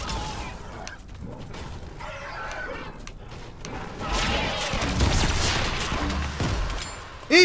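Repeated grenade launcher blasts in Fortnite pound at a flock of chickens, thumping explosions and mechanical clatter building louder toward the end amid scattered game noises.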